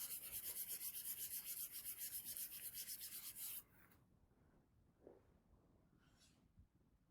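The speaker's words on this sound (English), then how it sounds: "Then I'm going to rub it with silk." A Teflon rubber rod is rubbed briskly with silk, a loud rhythmic swishing friction that repeats steadily for a few seconds, then stops abruptly, leaving a quiet room with faint handling noises.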